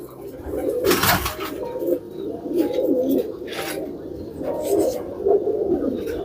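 Firozpuri pigeons coo repeatedly in low, throaty rolling calls, close by and fairly loud, with a few brief rustling bursts in between.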